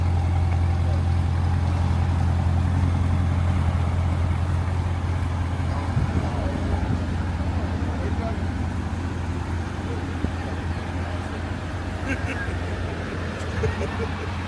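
Chevrolet Corvette C7 Z06 driving, a loud steady low engine drone and road rumble throughout, heard from inside with people talking over it.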